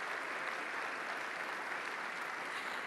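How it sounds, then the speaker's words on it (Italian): Sustained applause from an audience at an Italian economy and development awards ceremony, a dense, even roar of many hands clapping with no pauses. "Allora un applauso per Maurizio Vidoni"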